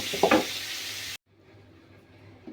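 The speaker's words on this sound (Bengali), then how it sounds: "এখন আমি এর মধ্যে মিষ্টি কুমড়া দিয়ে দেব। মিষ্টি কুমড়াটা এর সাথে একটু হালকা তেলের সাথে ভেজে নেব।" Pumpkin pieces go into light oil with browned onions, giving a loud, steady sizzle and a brief clatter of stirring. It cuts off abruptly to a faint, quiet background. No one speaks.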